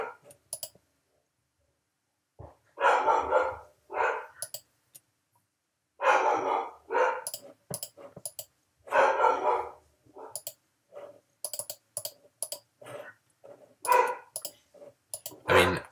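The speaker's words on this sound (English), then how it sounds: "It's just completely unnecessary barking" A dog barks repeatedly in loud bursts of several barks each, separated by short silences, with no voices over it.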